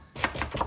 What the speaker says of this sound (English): I'm just using 2 onions because I don't want to make too much. Just going to thinly slice them.